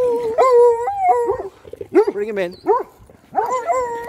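A dog howls and barks in several drawn-out, wavering cries broken by short pauses, loud and close, while people talk nearby.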